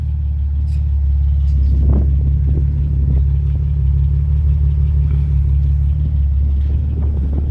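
A 1993 Nissan twin turbo car idles steadily, its exhaust giving a loud, close, continuous low rumble with a slight rise in revs partway through, heard alone without speech.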